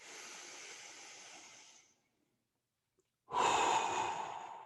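A long, airy exhale through the mouth, a soft steady whoosh, then a brief silence before a second louder breath rushes out close to the mic.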